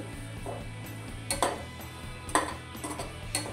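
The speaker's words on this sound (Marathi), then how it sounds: "परत त्याला चांगलं हलवून घेऊ" Spoon scraping and clinking against a pan while a corn and rice cutlet mixture with milk is stirred over low gas, several soft metallic taps and scrapes in a quiet kitchen.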